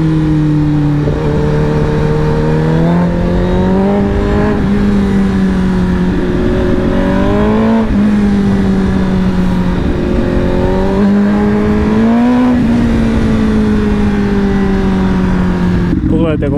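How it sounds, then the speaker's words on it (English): Motorcycles hum through a motorcycle-only lane on a Thai road, a loud continuous engine drone rising and falling in pitch with gear changes, heard from the rider's seat of a CBR1000RR under steady wind noise. "Gledajte koliko motorista"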